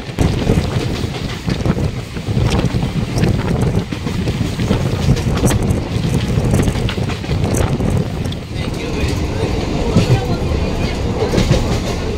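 Local commuter train crossing the Bata railway bridge at Newland Road near Nangi, a steady loud rumble of wheels and carriage noise with wind buffeting throughout, faint clatter rising now and then.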